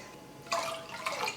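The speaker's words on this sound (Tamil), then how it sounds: "3 கப் அளவுக்கு எக்ஸ்ட்ரா தண்ணி சேர்த்துக்கிறேன்." Extra water is poured into a pot of rice for making murukku vathal, heard as two short, close splashing bursts of liquid over a quiet background.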